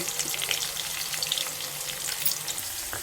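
Onion frying with curry leaves in a pan for mutton trotter curry, a dense, steady close sizzle with faint occasional stirring, no voices.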